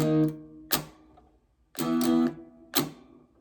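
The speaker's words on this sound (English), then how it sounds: "you're going to hit the strings with your pick while you mute them with your hand" Palm-muted percussive guitar strumming with a pick from a song: short clipped chords alternate with sharp muted string slaps in a halting rhythm, close and fairly quiet, with no talking.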